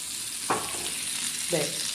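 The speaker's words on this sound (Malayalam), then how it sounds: "ചെമ്മീൻ വട സെറ്റായി മുരിഞ്ഞ്" Prawn vada (chemmeen vada) frying in a pan gives a soft, continuous sizzle with two brief scraping or turning sounds, at moderate volume close by.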